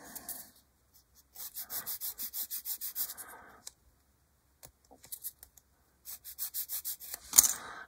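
A small hand-held sander works a part of a 1/48 HK Models B-25J scale model kit in short rhythmic bursts of hissing, rubbing strokes separated by quiet pauses, close and fairly faint, ending in a sharp click; no one talks.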